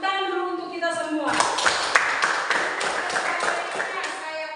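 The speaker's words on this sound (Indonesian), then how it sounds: "Tepuk tangan dulu untuk kita semua." A class of students claps hands together in a classroom, a burst of quick, fairly close claps that starts after a spoken line and keeps going for a few seconds.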